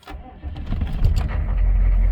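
A 6.5-litre diesel truck engine cranks and catches in below-freezing cold, then settles into a deep, rumbling idle, loud and close.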